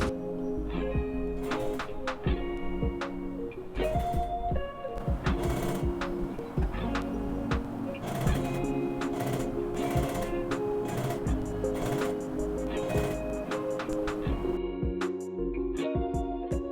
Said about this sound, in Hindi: तो ये हम सिलाई लगा रहे हैं।